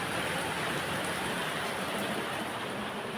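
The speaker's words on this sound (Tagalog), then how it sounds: "Kaya lakas ng ulan dito, grabe." Steady heavy rain in Dubai pours down as a dense, unbroken hiss, close and constant, with no voices or other sounds standing out.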